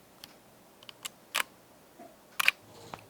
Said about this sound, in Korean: 찰칵합니다. 4000분의 1입니다.